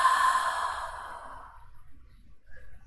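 One long, full exhale during gentle restorative yoga breathing, a breathy release that starts strong and fades out over about two seconds into near silence.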